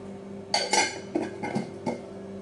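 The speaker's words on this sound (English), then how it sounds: "I then cover it with the lid." A lid goes onto a jar of hibiscus-infused almond oil with a few close clinks and knocks, a sharp pair at first and then several lighter taps, in a quiet room.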